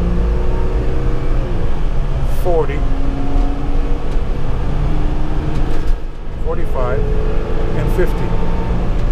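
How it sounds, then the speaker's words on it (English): A turbocharged Mercedes-Benz diesel engine in a 2017 Forest River Forester motorhome pulls steadily from a stop, its drone rising continuously with the interior noise while someone talks over it. "We're doing zero and I'm hitting the gas. It is a turbocharged diesel engine."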